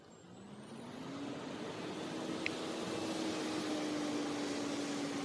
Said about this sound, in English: Got some truck action there, it sounds like.